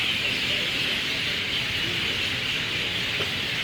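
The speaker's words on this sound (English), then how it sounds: "listen to the birds" Dense chorus of birds singing in a banyan tree on Maui, a constant bright chatter filling the air over a low background rumble.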